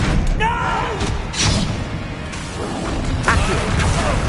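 Bombarda blasting spell in the Hogwarts Legacy game, heavy thudding explosions and crashing impacts amid loud combat noise, with whooshing bursts and voices in the background.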